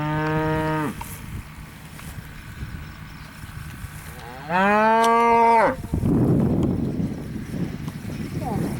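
Cattle moo in a pasture on a farm: two long, loud, close bellows a few seconds apart, followed by rustling, wind-like outdoor noise.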